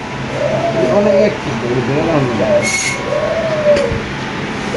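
Soft, repeated cooing of caged pigeons close by at a pigeon market, several low rolling calls over a constant background hum.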